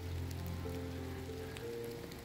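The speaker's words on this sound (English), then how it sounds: "It's raining." Steady rain falling outside on a December day, a continuous even patter close by with a low hum beneath it and no voices.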